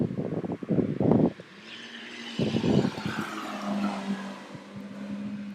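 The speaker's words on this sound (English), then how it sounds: "A Schumacher just drove past" A two-seat sports car with a powerful motor roars past close by, with loud engine bursts early, a quieter stretch, then another surge fading into a steady hum.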